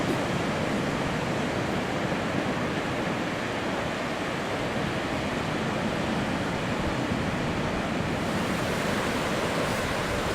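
Ocean surf rolls onto the sand at Wineglass Bay beach in Tasmania, a dense, constant roar of breaking waves with no pauses, loud and close, with no voices over it.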